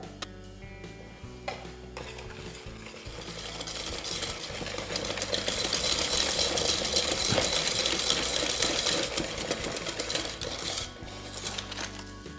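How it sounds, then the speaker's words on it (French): Egg yolks and caster sugar beaten together in a bowl until pale, a fast, steady metallic clatter of the whisk against the bowl that runs without pause and grows slightly louder midway, with no talking. "dans un récipient, je mets les jaunes d'œufs avec le sucre semoule et je blanchis l'ensemble"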